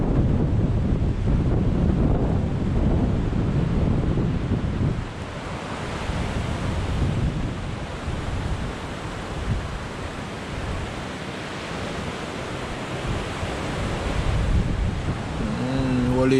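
Rough sea surf pounds a beach in high wind, a continuous loud roar of breaking waves with heavy wind buffeting the microphone throughout, no voices.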